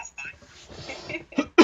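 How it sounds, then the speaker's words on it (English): A person with a cold coughs and clears their throat, a few short rough bursts close to the microphone, the loudest coming at the end. "the coughing and the clearing of the throat is just going to happen"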